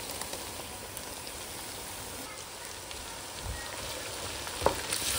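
A tomato sizzles in a pan of golden-brown fried onions for khichdi, a steady, close crackle of frying with a brief clatter of stirring near the end.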